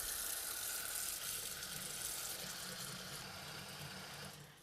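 Tap water runs steadily into a sink as it fills, a continuous close rushing hiss that eases slightly toward the end, with no voices.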